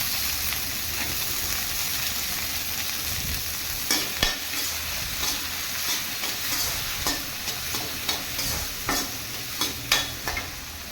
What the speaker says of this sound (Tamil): தக்காளி கொஞ்சம் வதங்கணும்.